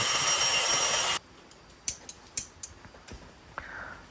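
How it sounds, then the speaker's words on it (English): A bandsaw cuts excess metal off a Harley Davidson Sportster gas tank bracket, fed by hand: a steady loud buzzing cut for about a second, then stopping, followed by scattered sharp knocks and clicks of metal being handled. "So to use the bandsaw, I just mark the line and cut it by hand like this."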